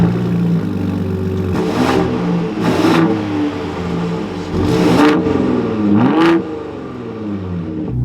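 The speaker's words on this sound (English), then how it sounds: "let's fire this back up so we can go over these controls and then take a listen to the revs" A 2023 Ford F-150 Raptor pickup truck engine idles steadily and is revved several times, each rev rising sharply then dropping back, loud and close.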